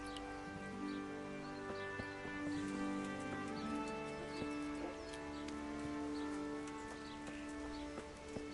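Horse hooves clip-clopping in the medieval video game Kingdom Come: Deliverance, a steady soft rhythm of steps under layered game music and ambience, with no talking.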